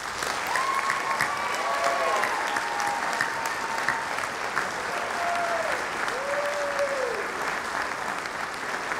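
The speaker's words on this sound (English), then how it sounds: "Let's give them all another round of applause." An audience at a junior high honors music festival applauds the musicians with steady, sustained clapping that fills the hall, while a faint whistle-like tone glides through the middle.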